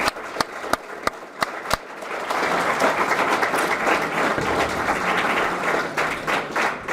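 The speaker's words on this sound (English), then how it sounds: "Everybody, just give yourselves a round of applause for that." At a pathway graduation celebration, a few sharp isolated claps are followed by a sustained round of applause from the audience, dense and steady to the end.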